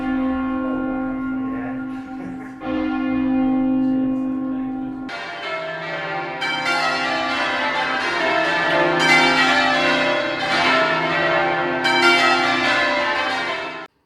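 Loud church bells of St Mary-le-Bow in London ring continuously, a dense peal of overlapping strikes that swells fuller and brighter partway through and sustains to the end, with no voices.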